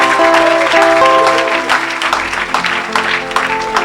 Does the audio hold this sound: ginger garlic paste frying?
no